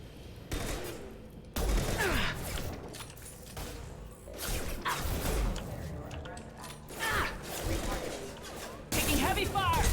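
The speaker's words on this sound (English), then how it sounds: "Taking heavy fire! Hostile forces have engaged." Gunfire during combat in the video game Mass Effect 2 arrives in repeated loud bursts and volleys with impacts and whooshes, while game voices speak over the action.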